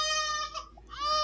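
An infant cries in a drama scene, a loud, wavering wail with strong harmonics that breaks off briefly midway and then rises again, heard alone with no talk.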